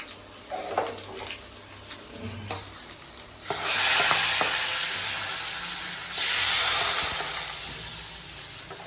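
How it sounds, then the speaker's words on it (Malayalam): Rice tipped into a hot pan with chili powder for a Kerala home-cooking meal; after a few soft clinks, a loud broad sizzle bursts up, swells again midway and slowly fades, with no voices. "കുറച്ച് മുളക് പൊടി ഇട്ടിട്ട് നമുക്ക് അരി ഇട്ടു കൊടുക്കാം"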